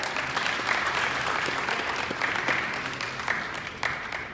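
An audience at a business talk applauds in a steady, moderately loud wash of many hands clapping throughout, with no voices standing out.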